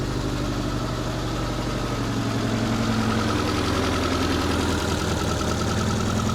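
A Daewoo Lanos petrol engine idles steadily after being restarted, a loud, even low rumble with a constant mechanical hum and no talking.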